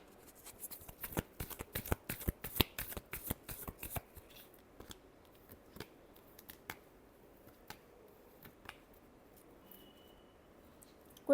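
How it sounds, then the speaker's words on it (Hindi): A deck of cards is shuffled in a quick burst of crisp riffling snaps near the start, then a few scattered single flicks and taps follow in a quiet room. "Last shuffle."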